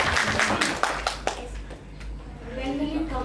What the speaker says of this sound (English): Big round of applause to Sabrish.